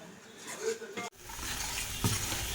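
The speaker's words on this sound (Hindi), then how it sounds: "देखिए मसाला कितना अच्छा भुन चुका है मेरा, बस ये रेडी हो गया।" Tomato, ginger and green chilli masala frying in a pan, a steady close sizzle with stirring scrapes and a couple of louder clacks near the end, no talking.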